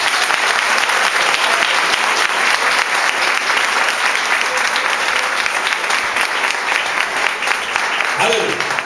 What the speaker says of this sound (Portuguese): dê suas palmas ao Senhor Jesus